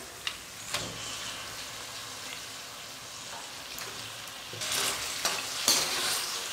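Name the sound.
chicken frying and being stirred in spiced masala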